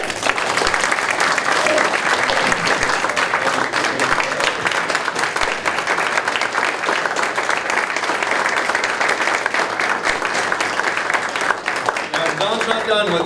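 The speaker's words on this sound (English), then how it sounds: "Please join me in giving a well-earned round of applause for Don Newsom." Audience at a school board meeting giving sustained applause, a loud even roar of many people clapping for the whole stretch, with a voice speaking briefly as it fades at the end.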